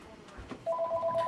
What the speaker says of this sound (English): Normally the phone never rings around here.